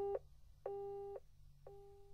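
Repeated telephone busy tone after a call is hung up on: three steady electronic beeps, the first short, the second about half a second, the third fading, clear and close with a faint hum beneath and no talk.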